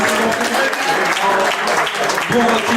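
A crowd at a slalom event's podium ceremony breaks into loud, sustained applause, dense clapping that continues steadily throughout with a voice faintly over it.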